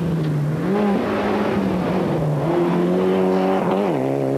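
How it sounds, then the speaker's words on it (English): Mitsubishi Lancer rally car racing at speed on a stage of the 1995 Boucles de Spa rally, its engine note loud and close, climbing and shifting through gears with no talk over it. "15 is the Mitsubishi Lancer of Pascal Smets."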